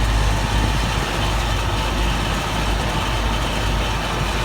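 A Carrier rooftop HVAC unit with a link belt runs steadily, giving a loud, continuous broadband roar and mechanical hum with no pauses and no speech.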